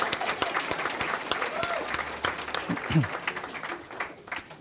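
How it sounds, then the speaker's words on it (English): A breakfast-club audience gives a round of applause, a lively spread of many hands clapping at moderate distance with sharp individual claps standing out, a voice briefly heard among them. "let's give him a round of applause"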